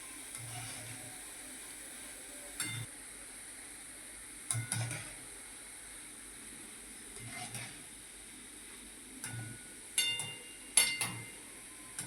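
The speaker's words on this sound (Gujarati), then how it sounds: "હલાવતા રહો" A spoon stirs sweet boondi frying in oil in a pan over a low gas flame, giving a faint steady sizzle with a few soft scraping and clinking accents spread unevenly through the quiet.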